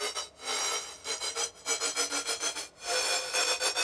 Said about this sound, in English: And then we have this like uplifter, which sounds like this.